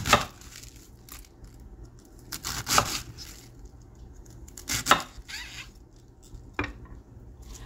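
Knife slicing through a head of cabbage into quarter-inch rounds on a cutting board, a few separate crisp cuts spaced seconds apart, close and fairly quiet.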